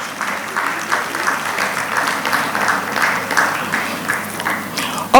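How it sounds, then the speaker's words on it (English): Hearty applause from a conference audience at an annual law conference, steady dense clapping filling the room for about five seconds, loud and close, with a brief louder burst at the very end. "Please give Mr. Akungbe a very, very hearty round of applause."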